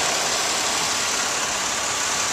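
A 2010 Chevy Impala's 3.5 V6 idles with the hood open on a hail-damaged salvage car, a steady close hiss-like whir with no change in pitch and no talking.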